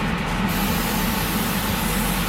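A continuous aerosol spray hisses steadily and close onto a model in light, dusty coats of raw aluminium paint, with no pauses or voices.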